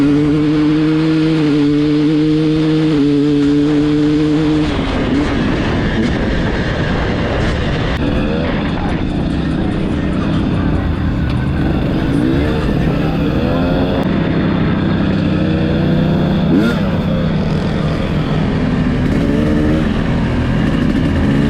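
A 2022 KTM 300 dirt bike fitted with a full FMF exhaust, running loud and close outdoors among a crowd. It holds a steady droning idle at first, then turns rougher and more ragged.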